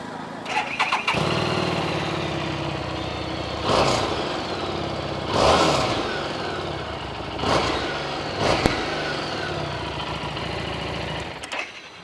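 A stock Harley-Davidson Street 750 with its original exhaust and about 8000 km on it fires up and runs, a steady motorcycle drone swelling in a few short blips of throttle over roughly twelve seconds.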